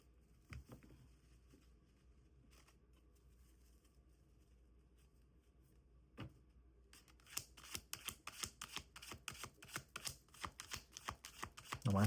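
Tarot cards being shuffled by hand, at first quiet handling with a couple of soft taps, then a rapid run of crisp riffling flutters growing louder and denser over the last several seconds.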